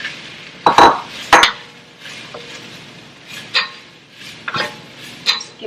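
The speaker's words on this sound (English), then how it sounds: "Just give it a good mix." Mushrooms being stirred in a pot for a creamy mushroom soup, giving several sharp spoon-on-metal clinks and scrapes spaced out over a few seconds, close and clear with no talking.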